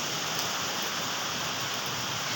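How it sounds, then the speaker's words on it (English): Steady rain falls outside during the daytime, a dense even hiss heard from indoors, continuous and moderately loud with no talking. "So rain has started and we are going."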